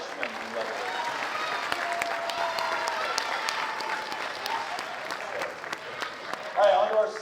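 Audience applause for freshman-level performers at a high school spring concert, steady and sustained throughout with a crowd murmur, fading slightly before a brief voice near the end.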